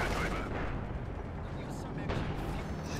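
Heavy gunfire and artillery in the Company of Heroes 2 war strategy game, a dense, continuous roar of shots and blasts that stays loud and unbroken for the whole stretch.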